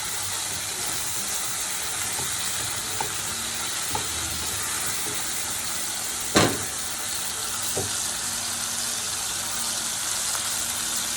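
Tomato with a pinch of salt fries in a pan, making a steady, even sizzle throughout. A few brief stirring knocks break through the sizzle, including one louder clack, and no one talks.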